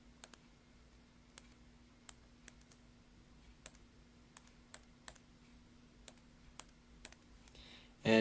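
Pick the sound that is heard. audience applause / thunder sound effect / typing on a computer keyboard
typing on a computer keyboard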